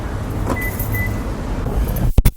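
A car door opens and shuts as someone gets into a car in Thailand, with a low vehicle rumble beneath and a couple of sharp thumps near the end, no talking.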